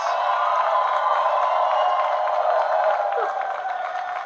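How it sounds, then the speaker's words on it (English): Graduates and guests applaud and cheer at a commencement ceremony, a broad crowd sound heard from a distance that holds steady and then eases slightly toward the end. "Give yourselves a round of applause!"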